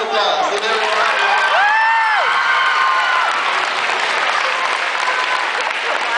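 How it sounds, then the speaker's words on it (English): Children at a middle school assembly break into loud, sustained applause with cheering and whoops rising over the clapping, a voice calling out early on. "First of all, give everybody a round of applause."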